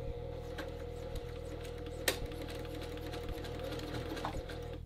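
A sewing machine stitches a dress shirt collar at short stitch length next to the interfacing, running steadily and close with a low rhythmic motor pulse and a brief sharp click partway through.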